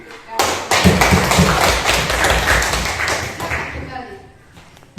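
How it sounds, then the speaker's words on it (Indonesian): Classroom of students applauding together, dense hand clapping that starts abruptly, holds steady for about four seconds and then fades, with some voices mixed in. "Kalau tidak ada kita beri tepuk tangan"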